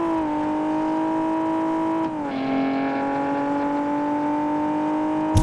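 A BMW's engine races in the video game Drive Zone Online, a steady high rev holding alone with a brief dip and shift near two seconds, then climbing again without any voices.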